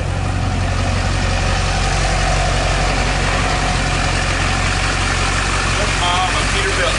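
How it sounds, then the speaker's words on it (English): A Peterbilt big rig's diesel engine idles nearby with a steady low rumble and constant throb, a faint squeak or chirp breaking in near the end. "Here comes Kyle in his big rig."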